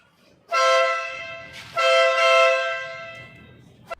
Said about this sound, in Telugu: ఒకసారి ఈ కార్ది హార్న్ వినిపిస్తే చూడండి.